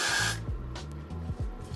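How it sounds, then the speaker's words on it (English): Got2b hairspray sprayed onto an eyebrow spoolie gives one short, close aerosol hiss lasting about half a second, followed by quiet handling noise. "I'm going to spray this spoolie with the Got to Be."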